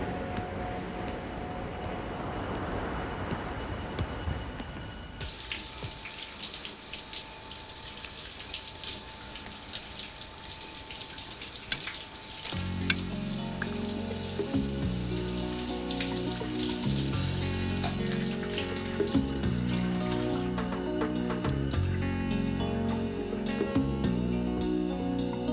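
Running shower water spraying steadily, a continuous hissing wash that carries on for the whole stretch, with faint music and low tones coming in partway through.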